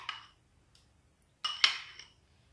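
A spoon clinks against a bowl while mixing a salad of potatoes, carrots, parsley, salt, pepper and oil, two short clusters of bright metallic taps separated by a quiet pause.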